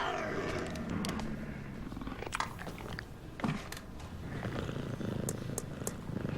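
Puma purring with a low continuous rumble, faint and close, mixed with soft clicks and mouth sounds.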